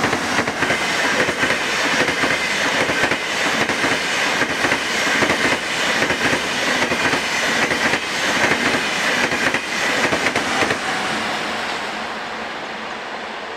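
DB Class 111 electric locomotives running in convoy roll past at Kahl am Main, with a steady loud rush of rail noise and rhythmic clickety-clack wheel beats throughout, fading slightly at the end.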